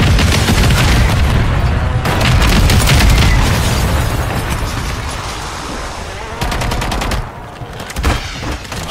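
A video game airstrike erupts in loud, rumbling booms mixed with a rattling fusillade of gunfire. The barrage holds at full force, then eases slightly, with scattered blasts continuing afterward.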